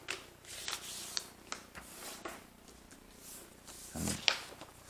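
A sheet of A4 paper being folded in half, giving soft papery rustles and crinkles with a few crisp creases and a fuller rub near the end, close up and fairly quiet.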